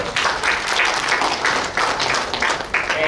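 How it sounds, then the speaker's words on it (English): Audience applause at an ICT tools award ceremony, a dense steady patter of many hands clapping together for about three seconds at an even level. "So give a clap for that"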